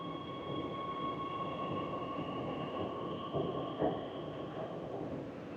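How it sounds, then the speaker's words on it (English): Inside a nearly empty Beijing subway car in motion, a steady low rumble and rolling rail noise carry on with a faint high whine and a brief clunk near the end. "It's not every day you can say that you have an entire subway car to yourself."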